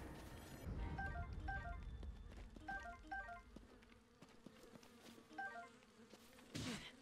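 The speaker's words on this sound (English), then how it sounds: "Fucking bees! Bees!" Bees buzzing in the video game Zelda: Breath of the Wild, a soft, steady droning hum with repeated chirpy game tones layered over it, heard alone with no talking.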